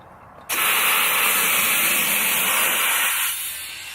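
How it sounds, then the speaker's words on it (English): Air rushes loudly and steadily as a car tire is inflated to seat its bead after tightening with a ratchet strap; the hiss starts abruptly and tapers near the end. "even like a ratchet strap just to sort of tighten the tire up"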